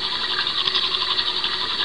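Toothbrushing sound effect from the 1999 Blue's Clues Windows game, a steady, even scrubbing hiss with a faint rattle that stays at one level for its whole length, alone with no voices.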